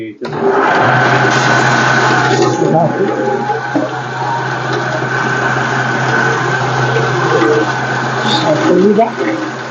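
A coffee bean processing machine whirs and churns steadily as whole coffee beans are fed in and split, a loud continuous mechanical drone with a low hum, while people talk over it.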